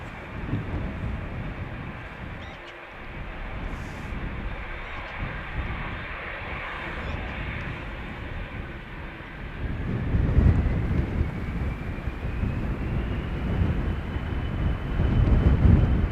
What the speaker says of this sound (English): Meanwhile, at the threshold, KLM Embraer 175 outbound to Hamburg.